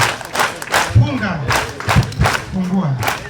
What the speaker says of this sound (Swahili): Makofi, tutapiga makofi.